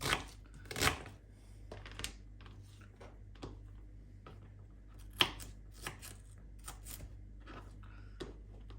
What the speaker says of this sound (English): once you've sliced up your onion